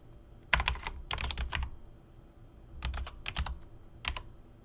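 Code being typed on a computer keyboard in Visual Studio: two short bursts of close, crisp key clicks separated by a pause, then a single final keystroke, with no talking.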